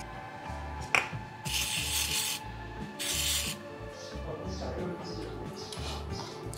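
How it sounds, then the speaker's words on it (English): Motorcycle front brake caliper pin on a Himalayan 450 being cleaned with WD-40: two short, close aerosol hisses with quiet rubbing and handling noises between them. "let's clean it with some WD-40"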